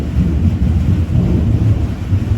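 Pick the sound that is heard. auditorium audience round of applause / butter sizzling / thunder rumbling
thunder rumbling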